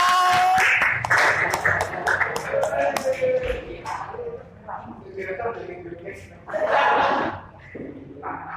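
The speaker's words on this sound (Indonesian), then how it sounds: "Beri tepuk tangan untuk kelompok 1." Classroom applause for group 1, a short burst of clapping from students that fades into scattered claps and shuffling, with a teacher speaking over and between it.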